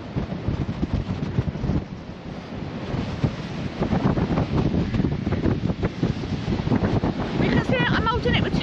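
Strong wind blows hard into the microphone outdoors with continuous rumbling buffeting and gusty bursts, while people talk faintly beneath it.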